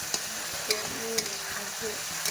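Cabbage frying with cumin, ginger and green chili sizzles steadily in a pan, with a few sharp spatula scrapes and knocks over a short stretch and no voices.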